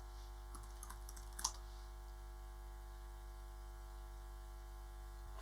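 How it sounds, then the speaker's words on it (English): Keys on a computer keyboard, used on an old MacBook running Lubuntu, give a few faint clicks and one sharper single press near the start, all under a steady electrical hum. "I'll press Tab on my keyboard"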